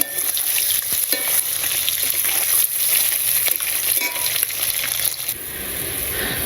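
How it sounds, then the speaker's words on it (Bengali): Eggs and spices fry in mustard oil, giving a steady, loud, close sizzle with occasional stirring scrapes throughout, and no voices. "তো ডিমগুলো ভেজে মশলাটা কষে নিলাম সর্ষে তেলে"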